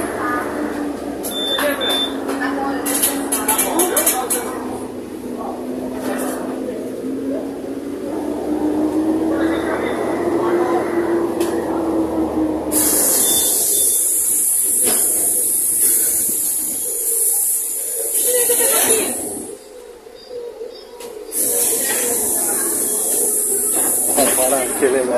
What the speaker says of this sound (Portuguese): Então vamos filmar o som do motor